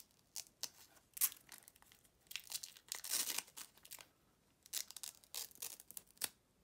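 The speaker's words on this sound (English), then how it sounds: "it's super satisfying peeling these plastics off from anything" Protective plastic film peels and crinkles off a new MacBook cable in close, irregular bursts of crackling and tearing, separated by brief quiet pauses, with no talking.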